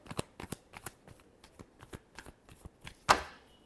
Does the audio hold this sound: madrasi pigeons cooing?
no